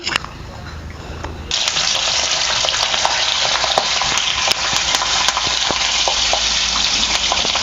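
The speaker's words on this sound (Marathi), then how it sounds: "हे बघा या मिरच्या का नाही तळून घेते भजी संग तोंडी लावायला" Green chillies fry in hot oil beside onion-greens bhaji, first a moderate sizzle that swells into a loud, dense, crackling hiss with small pops, close and continuous.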